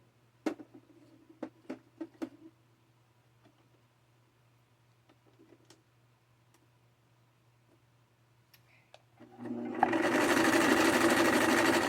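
A Brother VX-1100 sewing machine starts with a few clicks and ticks, then runs loud and steady at its widest stitch for the last couple of seconds, with a low hum beneath the quiet start.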